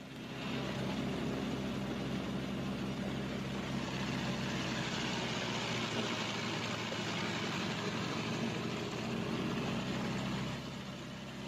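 Twin radial engines of a B-26 Marauder medium bomber run up together toward about 1,800 RPM, a steady, loud, continuous droning roar that holds evenly throughout with no talk.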